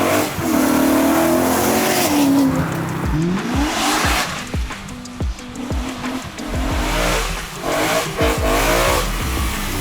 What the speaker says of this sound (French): Je vais faire un petit passage, valve fermée pour qu'on entende l'admission.